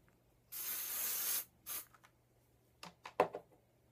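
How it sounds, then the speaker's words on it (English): A long hiss of aerosol hairspray lasting about a second, then a short second burst, followed by a few soft clicks and handling noises nearby. "you would just go ahead and spray your hair"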